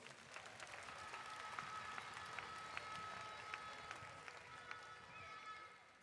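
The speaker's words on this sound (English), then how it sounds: "Let's give them a round of applause." Faint, distant applause from a crowd at the CARIFTA athletics opening ceremony, a steady patter of clapping with a few sharper claps standing out, heard through a large open venue.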